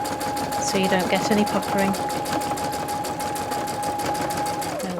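A sewing machine stitches the seam of a simple fabric tote bag in a steady, continuous rapid whir, running close and loud under a person talking throughout.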